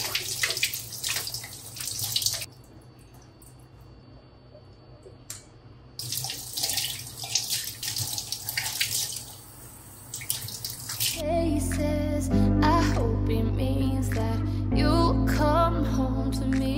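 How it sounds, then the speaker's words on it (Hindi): Hilsa fish rinsed under a running kitchen tap, with water splashing and gushing into the sink in bursts, then a steadier, fuller flow toward the end, close and fairly loud. "जस्ट पानी से अच्छे से, मतलब एक बार ऐसे फ्लो में धो लो बस"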